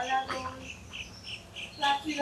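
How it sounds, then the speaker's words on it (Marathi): Birds chirping among mango trees in a Konkan village near Dapoli after morning rain, with short, bright tweets in brief bursts beneath a person talking nearby. "तुम्हाला आवाज येत असेल ना, इथे पक्ष्यांचा आवाज येतोय"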